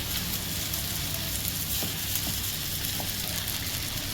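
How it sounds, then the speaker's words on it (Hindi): Vegetables sauté in a hot oiled pan with a steady, dense sizzle and a few faint stirring clicks, close and continuous, with no talking. "इसे भी जस्ट सौटे करते हैं हम।"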